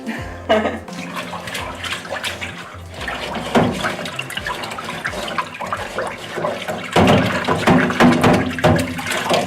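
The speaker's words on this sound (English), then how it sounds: "I'll swill it round with hot water first" Hot water is swilled and sloshed around inside a chocolate-coated pan during washing up, with irregular splashing surges and bursts of running water close by.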